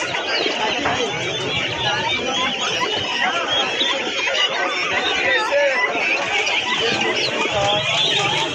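Chickens clucking and squawking amid the constant crowd chatter of a busy bird, pigeon and poultry market, a dense, steady din with people talking throughout.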